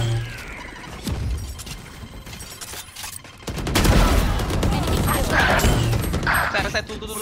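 A grenade blast followed by bursts of gunfire in Valorant ranked play on the Bind map, loud and close, while players call out over the combat.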